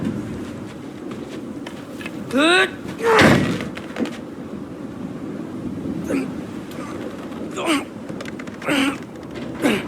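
A frozen door in God of War Ragnarök is forced open with a heavy thud and scraping, surrounded by strained grunts and cries of effort, with more effortful vocal bursts following later.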